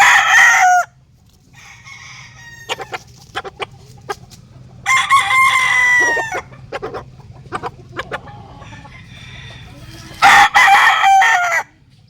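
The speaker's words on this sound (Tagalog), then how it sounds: "pakita ko lang yung mga manok na i-inspire natin ngayong araw yan" Gamecock roosters crow loudly in three long bursts, with scattered hen clucks and short calls between them over a low background hum.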